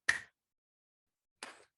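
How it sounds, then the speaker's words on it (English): Two sharp, isolated hand claps come from a single person during a gentle movement class, spaced more than a second apart, close and fairly quiet, with silence in between. "And I like to clap my hands like this."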